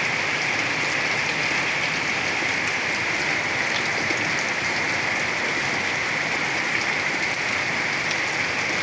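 Heavy overnight typhoon rain pouring down steadily on a roof and surroundings, a dense, unbroken roar of drops with no voices.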